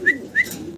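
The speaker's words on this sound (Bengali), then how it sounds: "দর্শক এখানে সিঙ্গেল সিঙ্গেল কিছু কবুতর আছে," Domestic pigeons kept for sale let out two short, soft coos in quick succession, close by and alone.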